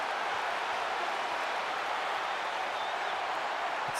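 Arena crowd noise in the WWE 2K20 wrestling video game before a title match, a dense, steady roar of cheering and applause that holds evenly throughout without pause.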